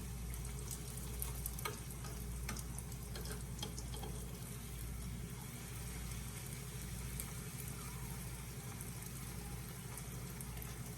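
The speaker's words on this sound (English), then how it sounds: "Okay, so I'm finished frying my barra." Steady, continuous sizzling of barra dough for doubles frying in hot oil on high heat, close and fairly loud, with faint crackles throughout and no talking.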